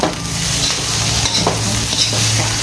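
Shrimp fried rice with blanched wild sweet leaf vegetable, an Isan home dish, is stir-fried in a hot pan, giving a steady close sizzle under continuous scraping and tossing, with no talking.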